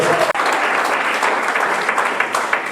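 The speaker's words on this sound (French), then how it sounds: "Alors je dis acclamer pour maman Bernadette." A congregation applauds and cheers for Mama Bernadette at a church gathering, a dense, steady clatter of many hands clapping close by for a few seconds.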